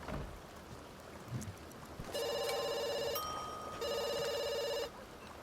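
A telephone ringing in The Sims, two bursts of a bright electronic trilling ring separated by a short gap, clear and close over faint background ambience.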